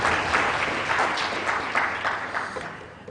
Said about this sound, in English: So a big round of applause for making this happen.